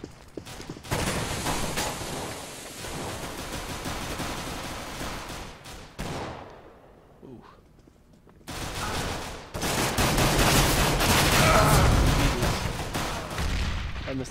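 Rapid bursts of gunfire from a CS:GO competitive match, dense fusillades of shots with a short lull in the middle before heavy firing resumes, loud and continuous.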